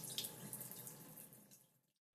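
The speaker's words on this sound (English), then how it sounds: "Then I'm going to add a little bit of water in it and mix this both ingredients." Water poured into a bowl of aloe vera gel paste gives a close, splashy trickle that runs steadily for under two seconds and then stops, with no talking.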